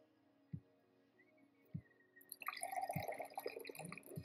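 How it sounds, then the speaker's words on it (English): Water is poured into a paper cup: a few soft, isolated drips come first, then a continuous splashing pour starts and runs to the end, close and fairly quiet. "I'll pour it into a cup."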